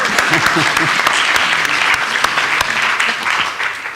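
Audience applause at a climate change conference, a dense steady round of clapping that fills the room from start to finish, with faint voices underneath.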